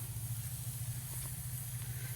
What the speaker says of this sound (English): get this down there close to the coals, sizzling up